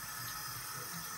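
Hot water runs from a kitchen tap in a steady, close, hissing rush that carries on unbroken for the short moment.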